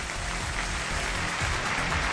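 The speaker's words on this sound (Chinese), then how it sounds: "掌声有请这一对，有请" A television studio audience breaking into steady, dense applause, a continuous wash of clapping heard at moderate level for the whole stretch.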